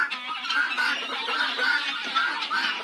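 Chickens, guinea fowl and a goose in a winter coop: continuous nearby clucking, a busy overlapping flock chatter with occasional honk-like calls mixed in.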